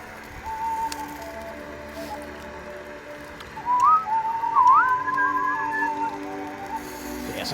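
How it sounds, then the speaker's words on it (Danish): Bird whistling in a clear melodic run, rising and sliding notes heard alone over a low steady background hum, a faint tone early on and then a louder, livelier phrase in the second half. "Så begynder fuglen at fløjte"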